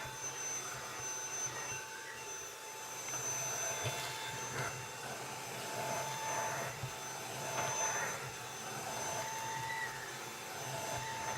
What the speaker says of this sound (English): Lucky enough, this Hoover is not too noisy, it's very quiet